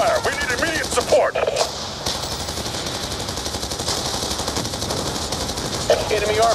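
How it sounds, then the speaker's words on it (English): Dense automatic gunfire in the video game Call of Duty: Black Ops II, a loud continuous rattle of rapid shots with a brief radio-style voice breaking through near the start and end. "Delta receiving enemy fire."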